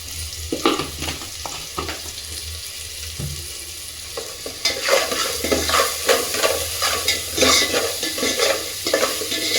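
Onions fry in a pan for coconut milk pulao, with a steady close sizzle and repeated scraping stirs that grow louder and busier midway through.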